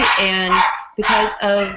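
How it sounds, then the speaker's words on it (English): A dog barks in the background behind close, continuous talking, its sharp calls mixed in with the speech throughout the short stretch. "sorry about the dog in the back"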